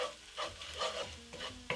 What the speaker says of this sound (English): Once the spices have slightly toasted, I will add in all the marinated chicken together with the marinade.